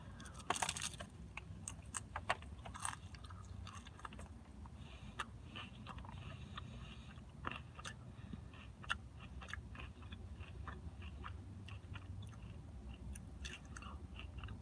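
Someone eats a messy crunchy taco up close, with quiet crisp bites and repeated crunching clicks scattered over soft chewing, faint and intimate throughout.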